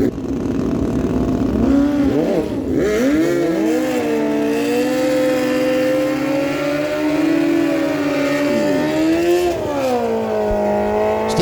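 Sport motorcycles, including a 2007 Suzuki GSX-R, race down a dragway: loud, steady engine roar with rising and falling revs as bikes launch and accelerate, continuous for about eleven seconds without talk.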